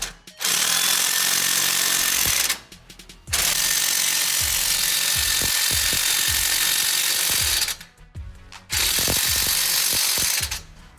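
Impact gun tightening bolts on a 2005–2014 Mustang GT suspension: loud, sustained hammering bursts of several seconds each, separated by short pauses, close to the microphone.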